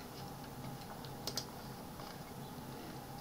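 Equations are typed into Mathcad 14 on a computer keyboard, giving quiet, soft key clicks at an uneven pace, with two sharper taps near the middle, over a faint room hum.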